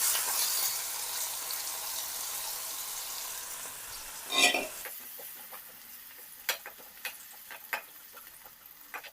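Green chillies and onion drop into hot oil, giving a loud sizzle at first that fades to a quieter crackle, then a louder splash partway through and scattered sharp pops near the end, with no talk.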